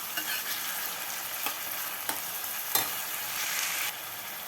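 Bottle gourd for a curd chutney fries in a pan with a soft, steady sizzle, punctuated by a few light spatula scrapes and taps, close but fairly quiet, no voices.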